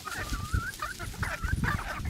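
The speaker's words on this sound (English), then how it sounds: "Looks like the chickens are going to follow me." Several chickens cluck close by, short rising squawks and chatters in quick bursts over a soft low rumble.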